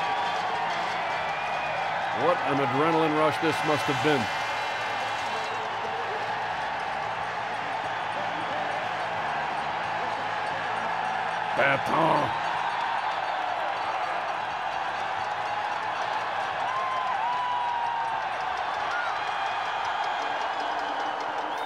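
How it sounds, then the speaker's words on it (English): A crowd cheering and applauding at the Olympic men's moguls freestyle skiing final, a steady roar of spectators running beneath continuous commentary, with brief louder swells rising out of it. "listen to that crowd"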